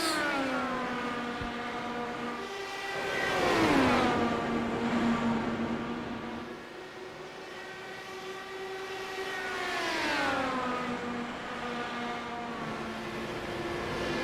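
Champ Car race cars race at an oval for the Indy 120, their engine whines rising and falling in pitch as two cars pass close by in turn, loud and clear, with no talk.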